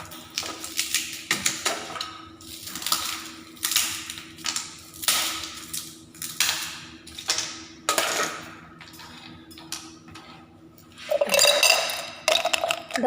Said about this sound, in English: we are pouring this water, pouring these ice cubes